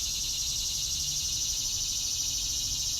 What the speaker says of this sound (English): you might not have heard a locust or a tree frog in a long, long time